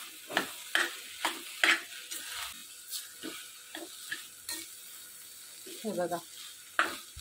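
Finely grated coconut roasting in ghee, stirred with a spoon that scrapes the pan in repeated short strokes over a faint sizzle, with a brief voice.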